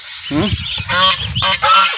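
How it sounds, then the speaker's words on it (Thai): Geese on a farm honk in a few loud, nasal bursts close by, calls overlapping and breaking off in quick succession. "ดูห่าน ห่านก็มีนะครับ"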